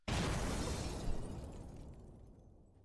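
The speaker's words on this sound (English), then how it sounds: "that sound effect is a bomb with some glass exploding from a building" A bomb explosion sound effect with glass blowing out of a building starts as a sudden loud blast, then crackles with shattering debris. A second burst comes about a second in before the noise fades into a long tail.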